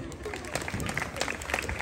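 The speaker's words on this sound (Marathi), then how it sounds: "वाजवा टाळ्या वहिनीसाठी" A crowd applauds for the sister-in-law at a comedic women's home game show, with a lively patter of clapping mixed with voices and chatter throughout.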